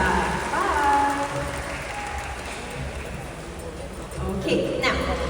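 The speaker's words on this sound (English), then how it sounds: "Everybody, let's give a big round of applause to Indra from California." Crowd applause at an evening animal show at a night safari in Singapore, a broad steady wash of clapping under a presenter's voice over a loudspeaker, swelling slightly near the end.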